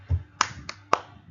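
A classroom clapping game called tepuk tanda dewasa produces a few sharp, separate claps or snaps in a quiet room, spaced unevenly and fairly close.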